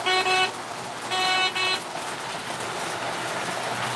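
Model train horn, two short bright toots with a reedy harmonic tone, heard over a steady background hiss with no talking.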